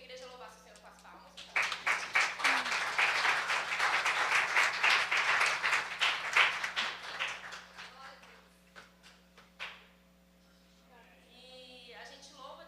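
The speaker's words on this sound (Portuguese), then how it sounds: "Eu queria que a igreja louvasse o Senhor com as palmas." A church congregation claps together in praise during a worship service, a dense burst of rhythmic applause that builds quickly, holds for several seconds, then fades into scattered claps and quiet room tone.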